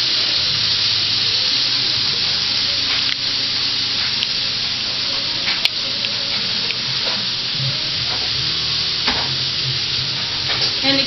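About three cups of chopped cabbage sizzle loudly in a hot pan, with a continuous frying hiss and occasional scraping as it is stirred, close up and with no talk.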